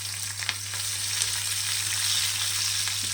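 Hot peppers sizzle and crackle steadily in an oily pan, the frying close and continuous. A low, constant hum runs beneath it.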